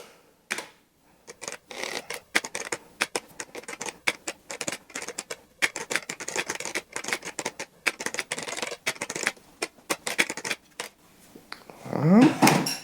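Keys clatter in a quick, uneven run on a Sinclair PC200 computer keyboard, close and fairly loud, broken by short pauses, with a brief louder sweep at the very end.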